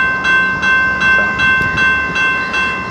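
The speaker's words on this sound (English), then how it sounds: "if this train doesn't hurry up and move up and gets on out the way" A train passes a railroad crossing where the warning signals are malfunctioning, with steady tonal ringing and rhythmic pulsing repeating about every half second over low rail rumble.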